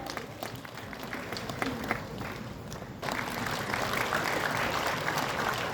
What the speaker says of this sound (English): We need to keep applauding them